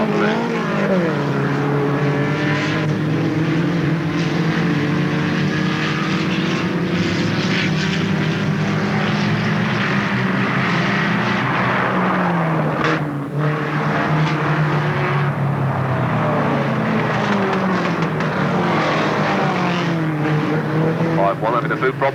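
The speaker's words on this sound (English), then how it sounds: "make sure all the cars are fired up, ready to go" Outlaw class race cars fired up at the start of a race at Alwalton Raceway, a dense loud roar of many engines revving and droning together continuously, with a commentator talking over the din.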